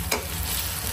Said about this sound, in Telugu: ఇట్లా ఉల్లిగడ్డ కొంచెం ఫ్రై అయినాక పచ్చిమిర్చి